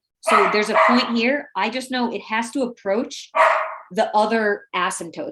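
A pet dog barks in a home during an online math class, its yips and bow-wows mixed under continuous close speech from a person explaining a problem.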